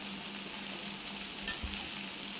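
Broad beans fry with shallots and curry leaves in a hot pan, making a constant close sizzle with a brief clatter of stirring near the middle.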